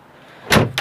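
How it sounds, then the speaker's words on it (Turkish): A New Holland TT4.50 tractor cab door shuts with a solid thud, followed quickly by a second lighter knock as it latches. "kapımızı kapatalım."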